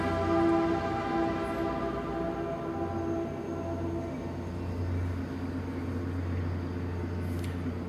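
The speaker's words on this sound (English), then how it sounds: "Chief Gervasoni, this train's a little bit early if I'm not mistaken." A train rolls past with a low, steady rumble while its horn blows a long, sustained blast, somewhat distant and fairly quiet throughout.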